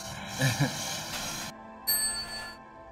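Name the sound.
bell ringing on an indoor cycling bike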